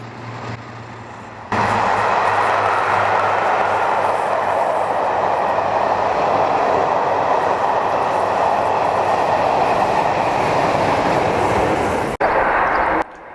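British Rail Class 52 diesel-hydraulic D1015 Western Champion hauls a special passenger train from Dorridge to Penzance, a loud steady engine roar and rolling rumble sustained from start to finish after a quieter opening.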